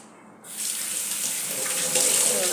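Tap water switches on and gushes steadily, running into a new cast-iron pan being rinsed, with a close, continuous splashing hiss.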